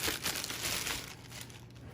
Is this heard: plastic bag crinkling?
yes